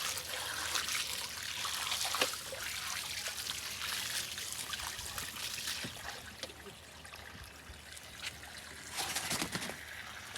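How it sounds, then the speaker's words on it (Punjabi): Water pouring and splashing while clothes are washed in tubs at a Punjabi home, a continuous trickling flow with louder splashy bursts, fairly close and with no talking. "ਇਸ ਤਰ੍ਹਾਂ ਧੋਵਾਂਗੇ ਆਪਾਂ"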